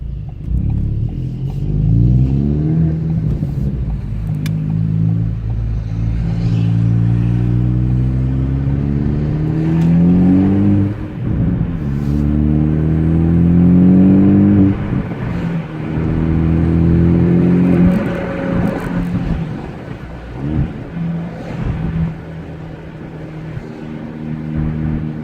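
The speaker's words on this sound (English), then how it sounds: "I'm just going to go down the road here real quick and give it a quick" A Ford Focus ST with its resonator and muffler deleted accelerates, heard from inside the cabin as a loud, droning exhaust rumble that climbs in pitch through gear pulls, with brief dips at shifts.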